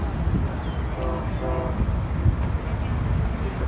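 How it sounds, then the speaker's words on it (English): A Brightline passenger train passes close by with a loud, steady rumble, its horn sounding in two short bursts over the rolling noise. "That's northbound train 1."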